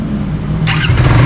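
A 2024 Suzuki Raider FI 150 motorcycle engine starting up, a brief low rumble that jumps into a louder, brighter catch and settles into a steady running note, heard close.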